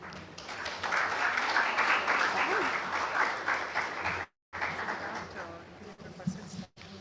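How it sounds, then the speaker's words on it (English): Sustained audience applause after a talk at the e4m Screenage Conference hall, a full steady clapping for about four seconds that breaks off, followed by a brief stretch of a voice and scattered lighter claps. "Ladies and gentlemen, a big round of applause"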